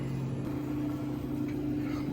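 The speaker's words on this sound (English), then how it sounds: "I guess that's the sound of the pump." Vacuum pump of a Premier freeze dryer running, a low steady hum with a faint whine above it, even and moderately quiet, with no talk.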